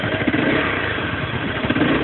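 Stock exhaust of a 2011 Honda CBR 250R motorcycle, recorded close to the muffler, gives a dense, continuous engine roar with slight rises in revs through the whole short stretch, and nobody speaks.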